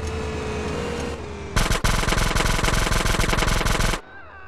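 Sustained rapid automatic gunfire in GTA San Andreas, a dense burst of shots lasting a couple of seconds, loud and close over game background sound.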